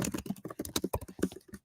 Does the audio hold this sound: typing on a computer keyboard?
yes